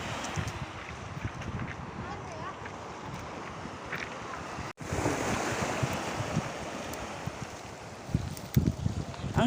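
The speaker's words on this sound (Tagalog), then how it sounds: "Ayan, andito na kami sa dagat." Sea waves wash steadily against a rocky shore at Baler, Aurora, with strong wind buffeting the microphone throughout, loud and continuous with a brief dropout midway.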